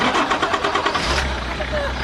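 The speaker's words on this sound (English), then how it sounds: "it's got a powerful diesel engine as well, by the sound of things" A powerful diesel engine turns over and catches, a brief churning crank settling into a low, steady idle, with voices talking over it.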